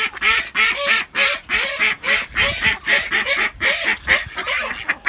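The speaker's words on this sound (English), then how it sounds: "The noisy ones, aka Emerald and the ducks." Farm ducks and geese call out in rapid, loud succession, a dense overlapping run of quacks and honks close by with barely a pause.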